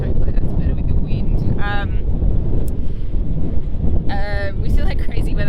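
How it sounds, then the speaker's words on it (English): Strong wind buffets the microphone outdoors on a long road trip across the Nullarbor in Australia, a constant heavy rumble throughout, with brief tonal whistles and some voices partly masked beneath it. "Even today, we're in crazy wind at the moment."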